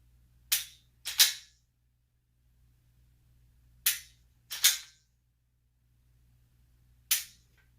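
Dry-fire trigger clicks from a Glock 17 Gen 5 pistol with a Zev slide and tungsten guide rod: sharp, close snaps arriving singly and in quick pairs with gaps between, over a quiet low hum.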